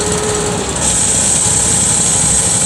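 A Cub Cadet garden tractor competing in a county fair tractor pull, its small engine droning steadily at high revs and loud throughout, with a constant buzzing whine and no talk.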